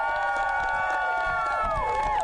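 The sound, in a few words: crowd cheering at cricket awards ceremony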